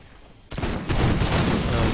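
Musket volleys crackle in the strategy game Empire: Total War, a sudden loud fusillade of overlapping shots that keeps rolling on as a dense wall of gunfire.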